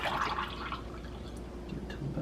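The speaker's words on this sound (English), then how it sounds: "Pour that in." Gorilla Grog liquor is poured into a glass for a Schweitzer Falls cocktail, making a brief, faint trickle of liquid close by.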